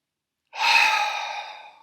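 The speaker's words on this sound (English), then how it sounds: "I invite you to spend a little more time on your exhalation" A single long, breathy exhalation during a guided breathing exercise starts after a half-second of silence, swells quickly and tapers slowly as the breath runs out, close and alone with no talking.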